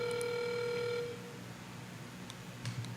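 A telephone rings through a speakerphone while calling a Waffle House, a steady tonal ring that cuts off after about a second, leaving faint line hiss and a few soft clicks.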